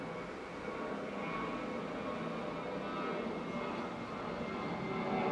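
Aircraft flying near Okinawa airport, where military and commercial planes are based, heard as a steady, moderately loud engine roar that holds evenly throughout without any talk.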